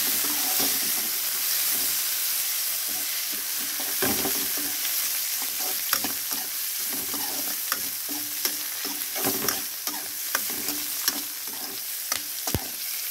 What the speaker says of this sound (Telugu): ఆనియన్ బాగా వేగిపోయాయి